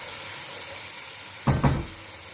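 Blended peppers and onions fry in hot palm oil in a pot, a soft steady sizzle with two brief louder bursts of stirring near the end.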